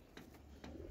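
Pigeons cooing in a loft among male and female birds, a few soft low coos rising and fading over a steady background murmur, fairly close.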